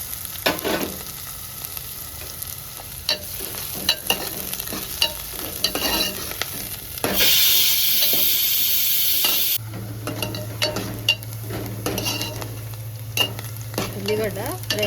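Onions and green chillies sizzle and fry in a pan for an Andhra-style dish, with scraping stir strokes and clinks throughout and a louder hissing burst midway.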